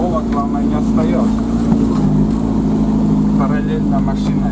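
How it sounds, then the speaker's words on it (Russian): A car drives alongside on a clay dirt road, heard as a loud, steady engine drone and rumble from inside a vehicle, with a person talking over it. "Параллельно машина едет."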